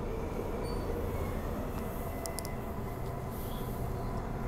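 Transperth MAN B-series electric train on the run from Kwinana to Aubin Grove, a steady loud rumble and roar of wheels on rail with brief high squeals, heard from inside.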